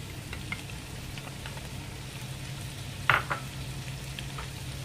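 Papaitan simmers and fries in a pan with a steady low sizzle, while a spoon stirs in soft scrapes and one sharper clink against the pan near the end.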